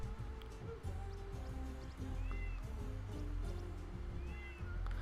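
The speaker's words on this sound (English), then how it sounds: "They're making this noise. They're meowing at you." Cats meowing in the video game Tasty Planet, short mewing calls repeating a few times over a low, steady game soundtrack, fairly faint.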